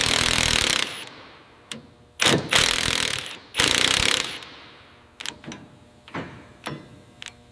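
Metallic clicks and ratcheting from tightening a bolt on a rusted Thomas locomotive being restored come in sharp clusters, with louder mechanical bursts followed by several separate clicks in a workshop.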